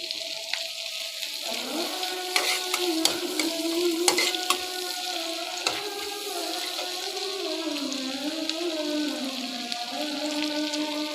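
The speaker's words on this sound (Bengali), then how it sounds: "পেঁয়াজটাকে ভালো করে একটু ভেজে নিতে হবে।" Onion fries with salt in a hot pan while being stirred, a steady close sizzle broken by scraping stir strokes and a few sharp clinks, with no voices.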